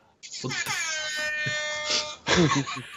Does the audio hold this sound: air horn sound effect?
yes